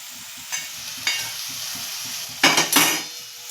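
Ivy gourd pieces sauté in an oily masala gravy, giving a steady close sizzle broken by a few sharp stirring scrapes and clanks of a spoon in the pan, the loudest pair coming near the end.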